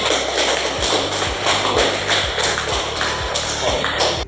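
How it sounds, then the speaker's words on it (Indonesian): Students in a classroom clapping after a group presentation: loud, close, dense applause with steady low thumps running through it, continuing without a break for several seconds. "Tepuk tangan untuk hasil pemaparannya"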